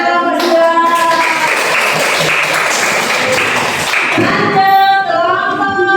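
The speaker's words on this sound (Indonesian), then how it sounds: "Ya, tepuk tangan kelompok 2" A classroom audience applauds a group's presentation during a teacher-training session at Universitas Sebelas Maret, steady clapping that swells and holds for several seconds, with a few voices over it.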